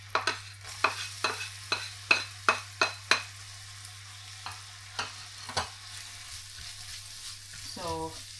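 Garlic and onion sautéing in a pan, a crisp sizzle broken by a run of sharp, regular spatula clacks that thin out toward the end, heard close and without talk.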